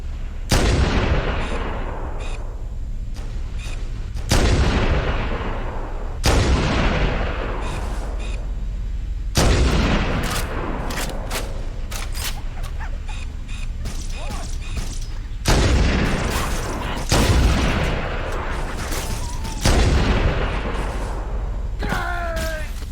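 Heavy gunfire and booming blasts in Halo: Combat Evolved Anniversary, loud impacts each trailing into a long decaying rumble, with rapid shots layered on top through a sustained firefight.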